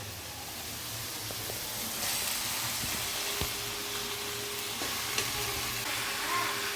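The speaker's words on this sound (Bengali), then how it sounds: "এই মশলার সংমিশ্রণে আমরা মাংসটাকে কষিয়ে নেব।" Chicken sizzles steadily in a wok with a spice mix of tomato sauce and chili powder, with a constant hiss and occasional stirring clicks at moderate, close volume.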